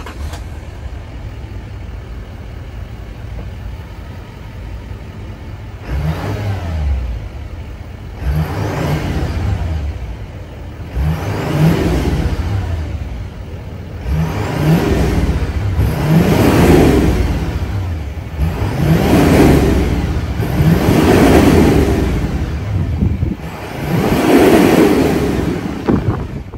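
The 6.6 liter V8 Duramax diesel engine of a 2024 Chevrolet Silverado 3500HD pickup idles, then is revved repeatedly in swelling bursts, deep and loud up close, with a rumbling exhaust between pulls.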